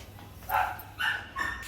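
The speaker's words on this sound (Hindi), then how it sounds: "चिक्की भौंक रही ऊपर" A dog barks upstairs in a home, three short barks spaced about half a second apart, muffled and moderately distant.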